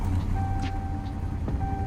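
Engine of a 2018 Bullhorn Prancer Sheriff police car starting up in the Greenville video game, with a steady low rumble, a faint tonal whine and a couple of brief clicks, heard alone.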